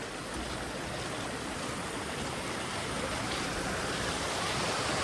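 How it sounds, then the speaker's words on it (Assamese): River water flows steadily near Kakoxang waterfall, a dense, continuous rushing wash that stays loud and even throughout with no voices. "সেইটো পূৰা এফালে পানী বৈ আহিছে"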